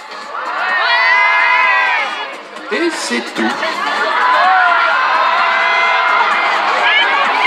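Concert crowd at a live show at Futuroscope cheering, shouting and whooping loudly throughout, with a brief dip in the middle; a performer's voice speaks briefly over the noise.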